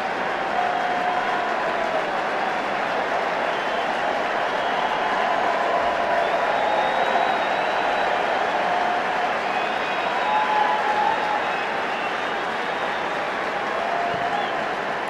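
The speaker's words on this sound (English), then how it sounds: "So a good crescendo there to the applause in the support stand" Stadium crowd applause rising from the supporters' stand during a Timbers versus Aston Villa international friendly, a broad, sustained roar of clapping and crowd noise carrying steadily throughout.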